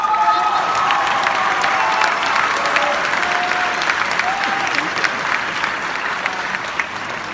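A graduation-ceremony audience gives sustained, loud applause, close and continuous for several seconds, with faint cheering mixed into the crowd noise.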